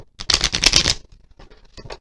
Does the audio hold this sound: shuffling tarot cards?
yes